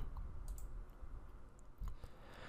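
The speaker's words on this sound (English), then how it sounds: "we'll click the Create a New Agreement button" A computer mouse gives a few faint, sharp clicks in a quiet room, spaced irregularly over a couple of seconds.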